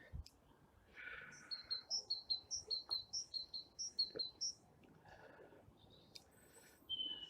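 In a winter garden, a bird repeats a rhythmic series of a dozen quick high whistled notes, with a few other chirps around it and soft ambient noise beneath.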